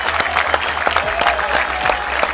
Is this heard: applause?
yes